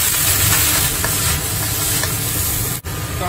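Beef goes into hot oil already fragrant with star anise, cinnamon, bay leaf, Sichuan peppercorn, scallion, ginger and garlic, giving a loud continuous close sizzle and hiss with light stirring, briefly dipping near the end.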